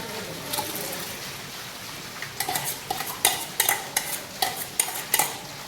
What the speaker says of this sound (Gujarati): હવે આપણે આમાં કાંદાની પ્યુરી નાખીશું